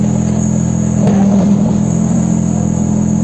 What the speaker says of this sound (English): We now see the tank backing up as the gun reloads. This thing has a very high idle